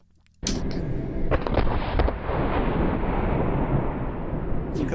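A gun blast erupts suddenly after near silence, followed by a sustained roaring rumble with scattered sharp cracks that stays loud throughout.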